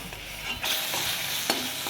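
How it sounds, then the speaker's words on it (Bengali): A spoon or spatula stirs a spice masala frying in oil in a pan for a fish-roe kalia gravy, with close scraping strokes over a continuous sizzle. "এইভাবে আমি নাড়তে থাকবো। নাড়তে নাড়তে মশলাটা কষানো থাকবো।"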